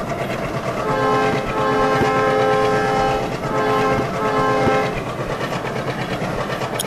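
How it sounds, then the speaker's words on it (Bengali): A large passenger train in Train Simulator on a Bangladesh route rumbles steadily along the rails while its horn sounds in long, loud blasts, then fades back to the running rumble. "ওই যে আমাদের ট্রেনটা ভাই,"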